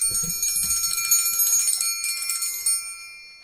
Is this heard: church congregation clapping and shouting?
no